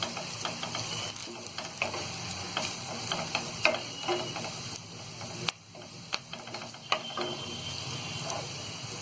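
Turmeric powder roasting lightly in a pan, with a soft steady sizzle under repeated spoon scrapes and clacks as it is stirred, close and fairly quiet.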